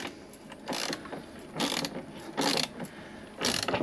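Ratchet clicking while the negative cable terminal is tightened on a Wattcycle 24V 100Ah lithium battery, four short bursts of quick clicks separated by pauses, close and clear.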